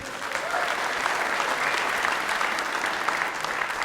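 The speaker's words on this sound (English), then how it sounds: "The crowd's going to erupt here once the referee calls the score." Dublin crowd applauding steadily at an All-Ireland 60x30 men's handball final, a dense, sustained clapping roar that fills the hall without pause.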